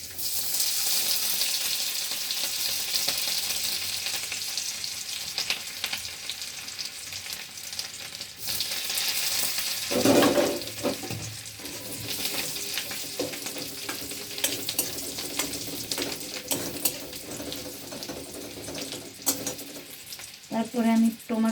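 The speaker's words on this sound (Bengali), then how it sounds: "দু চামচ ঘি দিয়ে দিলাম। তারপরে রসুন কোচানোটা দিয়ে দিলাম।" Chopped garlic fries in two spoonfuls of ghee, giving a bright, continuous sizzle that flares with a sudden crackling burst partway through, then settles into a steady hiss with occasional stirring clinks near the end.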